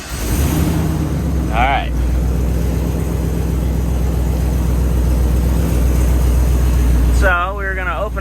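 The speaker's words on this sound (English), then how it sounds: "I'm gonna crank the vehicle." A Chevrolet Tahoe engine running steadily after cranking, a loud continuous low rumble close by that holds for several seconds, with someone speaking briefly over it.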